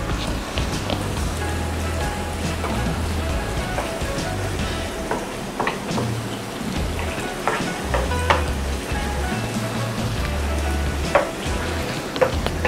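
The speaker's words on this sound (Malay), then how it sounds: "kita goreng bahan-bahan kita ni sampai dia nampak garing lah" Ingredients sizzle in reused oil until crispy for a three-flavour fish dish, a loud continuous crackle and spatter with occasional sharper pops and stirring, close up and without speech.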